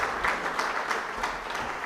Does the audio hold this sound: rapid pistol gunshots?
no